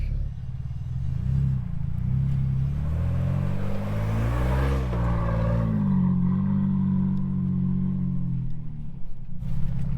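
An off-road truck churns slowly through thick, sticky mud, its engine droning low and rising under load, with muffled clatter from the tires, heard from inside and steady throughout.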